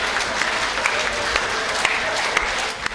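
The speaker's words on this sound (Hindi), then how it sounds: "ताली तो आप लोग ऐसे बजा रहे" Audience applause at a Hindi comedy and poetry gathering (kavya milan), a dense steady clapping that fills the whole stretch with a few sharper claps standing out.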